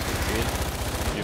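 The Hacksaw gun in Fortnite fires a rapid, steady burst of shots, loud and close, with a rhythmic pulsing low thump under a speaking voice.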